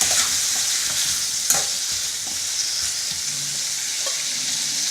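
Tomatoes and green chilies fry in a pan as they are stirred, giving a steady close hiss with soft scraping clinks from the spoon.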